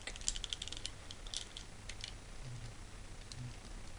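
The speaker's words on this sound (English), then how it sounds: "Lots of awesome G1 clunky clicking noises." Plastic clicks and clunky snaps from a G1 Transformers Headmaster Apeface toy being transformed by hand, a scattered series of small close ticks bunched near the start and middle, heard alone.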